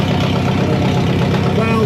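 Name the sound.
Farmall 400 tractor engine idling after start-up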